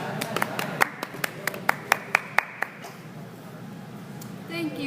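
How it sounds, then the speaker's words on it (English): A small group clapping, around a dozen sharp distinct claps in a fairly regular rhythm for a couple of seconds, then fading into room noise before a voice begins. "can we have a warm round of applause for King Sihanouk?"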